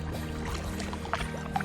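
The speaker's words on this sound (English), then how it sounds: "Hearing that running water makes me want to keep going." Running river water on the Staunton River during a kayak camping trip, a soft, continuous burble and trickle heard close by with faint splashes near the end.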